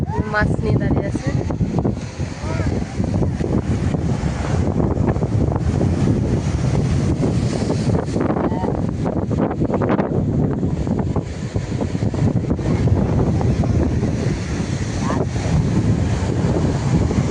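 Sea waves at Digha beach roll in and break with a heavy, continuous roar, buffeted by strong wind against the microphone, while voices talk faintly underneath.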